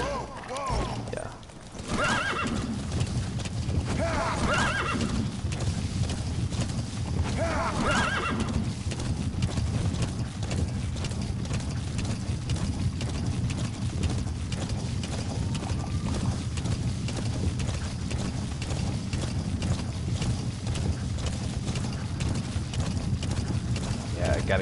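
A horse in the video game Metal Gear Solid 5 runs steadily through the whole stretch, its hooves a continuous clip-clop under a low rumbling game soundscape, with brief whinnies or neighs near the start.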